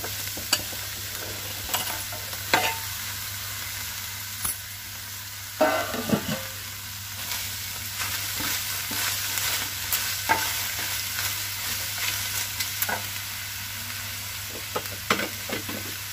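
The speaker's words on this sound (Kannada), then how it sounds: "ಈಗ ನಾನು ಹೀರೆಕಾಯಿಯನ್ನು ಹಾಕ್ಕೊಳ್ತಾ ಇದ್ದೀನಿ" Ridge gourd tipped into a pan of half-fried onion and green chilli, a soft continuous sizzle broken by repeated scraping stirs and clinks, close and fairly quiet with no talking.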